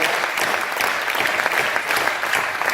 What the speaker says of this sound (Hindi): इन सब कवियों के लिए एक बार जोरदार आप तालियां बजा दें